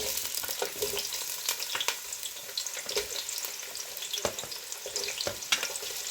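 Onions frying in hot oil for a mutton curry hiss and crackle steadily, with frequent stirring clatter and sharp pops, close to the pan and without speech.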